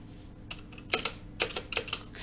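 Keys tapped on a computer keyboard, about a dozen light quick clicks in small irregular clusters, close and quiet, without speech.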